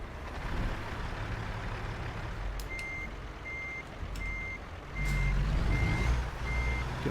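Truck reversing beeps from American Truck Simulator, a steady series of about six evenly spaced electronic beeps over a low diesel engine rumble that swells midway, with no talking.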